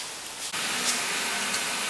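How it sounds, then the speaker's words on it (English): A powder coating oven runs in a workshop, its steady broadband hiss and fan-like whoosh switching on abruptly partway through, then holding at an even, moderately loud level with no voices. "sorry for the oven noise. I got some stuff in the oven right now."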